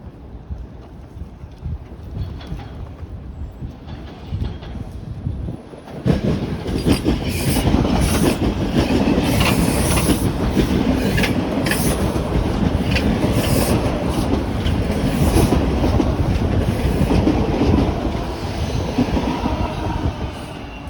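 A subway train near Victoria Park Station rumbles past close by, swelling from a quieter wind-buffeted start into a loud, sustained roar of rolling wagons and rattling wheels that holds for the rest of the passage.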